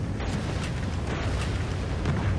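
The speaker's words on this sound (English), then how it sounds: "Friendly Trinity rocket inbound." A Trinity rocket strike in Call of Duty: Ghosts multiplayer rolls out as a sustained, loud, dense roar of blast rumble lasting the whole moment, with no voices.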